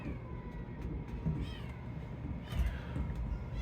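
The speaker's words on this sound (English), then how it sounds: "This cat is called Kitty" Domestic cat meowing indoors, a few soft, close meows spread over a few seconds against a quiet room background, with no talking.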